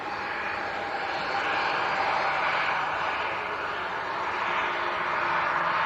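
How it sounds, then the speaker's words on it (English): A Jet2 Boeing 737 pushes back at Leeds Bradford Airport, its engines making a steady broad whine and rush that holds loud and even throughout, with no voices. "You can see the Jet2 737 pushing back in the background as well."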